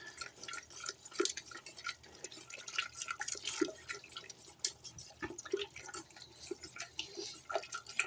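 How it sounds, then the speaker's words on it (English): Wet, dripping and sloshing liquid sounds with irregular light clinks and taps, steady and close, as a whisk stirs flour and water into a thin cream of broccoli cheddar soup in a pot. "we're going to whisk that flour and water into that soup"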